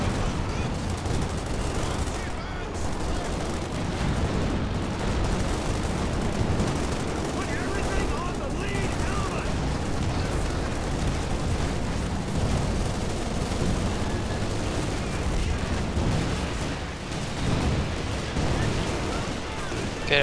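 A Calliope rocket artillery strike in Company of Heroes 2, with a dense, continuous roar of rapid blasts and rumbling explosions, loud and sustained throughout, over a busy battle background.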